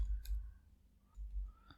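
A computer mouse double-clicks while someone edits a website section in a page builder: faint, quick clicks over a low hum, with another soft click near the end.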